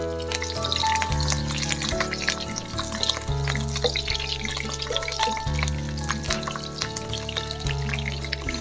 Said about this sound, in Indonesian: Semua bumbu ini akan kita tumis hingga layu dan juga harum ya.